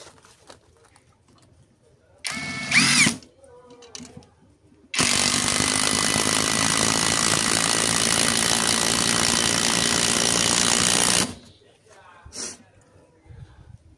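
A Dagmara 18V impact driver hammers a screw in at top speed, giving one loud, continuous rattling burst of about six seconds, with a shorter burst just before it and quieter handling noises around.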